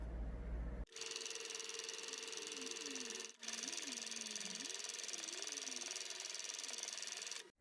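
Steady whirring hum of a sewing machine stitching a strap onto a sun bonnet, continuous and close, broken by two brief pauses.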